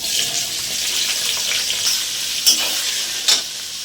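A bowl of onions hits hot oil with cardamom and cinnamon for chicken biryani, producing a loud, steady hiss of frying with two sharper crackling bursts near the end and no talking.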